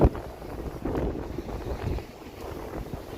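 Strong, gusty cold wind buffets the microphone on a snowy Toronto street on a winter evening, a loud continuous low rumble with swelling gusts and no voices.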